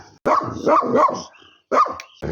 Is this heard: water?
no